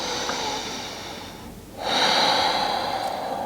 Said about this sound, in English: I'm going to take one more breath here.